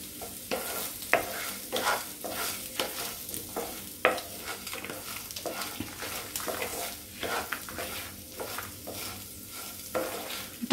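Onions and a piece of tamarind fry in oil in a pan while being stirred, with a steady sizzle broken by repeated scraping strokes and light clinks of the spoon, close and moderately loud.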